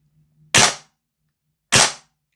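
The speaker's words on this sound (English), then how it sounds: "Got gas coming out the barrel and out the breech on semi-auto." Two loud, sharp shots from a VFC G36C gas blowback airsoft rifle on semi-auto, spaced about a second apart, each a crisp crack with a brief hiss of gas, with quiet between.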